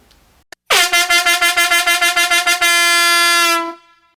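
A loud, deep foghorn-like blast: rapid pulsing honks followed by one sustained tone that cuts off, very close and overpowering.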